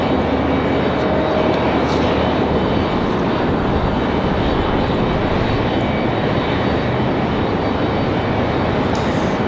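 A FedEx Boeing 767 cargo jet at Raleigh-Durham International Airport, heard as a loud, continuous, close engine roar that holds steady throughout with no voices.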